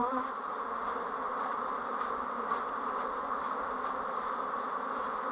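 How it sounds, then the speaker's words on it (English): Honey bees buzzing steadily at a hive entrance while pollen traps are fitted, a dense, continuous swarm hum with no talking. "So I want to get those bees out of there."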